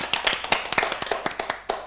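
A studio audience at a Kyrgyz TV game show gives a short burst of hand clapping, loud, close and irregular, with a few sharp claps standing out.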